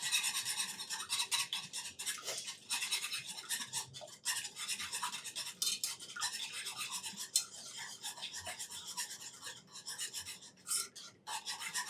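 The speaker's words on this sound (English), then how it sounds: "I whisk them." Fresh farm eggs are whisked in a bowl for ham fried rice, giving a close, quiet, continuous scraping and rasping of the whisk against the dish, steady and rhythmic with no voices.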